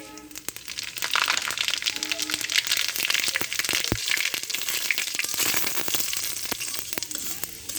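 Panch phoron, a seven-spice mix, hits hot oil for red amaranth greens, bursting into a loud, dense, crackling sizzle with scattered sharp pops and spits throughout, close up and without talk.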